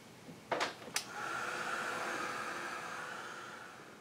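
Handheld dryer blowing over a freshly painted art journal page, a steady whooshing roar that starts after a couple of clicks and runs on evenly, close and moderately loud.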